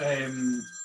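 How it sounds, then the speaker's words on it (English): Telephone bell ringing, a single short burst of bright tonal ringing that fades out quickly, heard up close. "Oh, that's my phone ringing."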